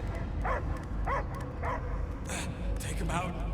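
A creature barks in the video game Marvel's Guardians of the Galaxy, with a few rough, dog-like barks and yelps spaced through a dense background of game score and ambience.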